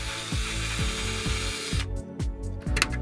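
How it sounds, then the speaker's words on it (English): Power drill widening screw holes in a board during a build, repeated short whirring bursts with clicking ratchet-like pulses, close and fairly loud, followed by a few sharp knocks, no talking. "I'm just going to run the drill through and widen them a little bit"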